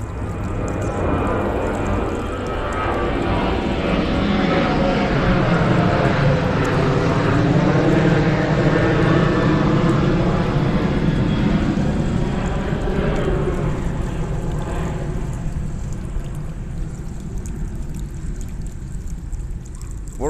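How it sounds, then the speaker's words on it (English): Propeller and jet airplanes passing low overhead beside an airport at a botanical garden, a loud continuous engine roar that swells through the middle and slowly fades, with faint background sound and no talk. "We're right next to an airport, so you're going to hear lots of planes going in and out."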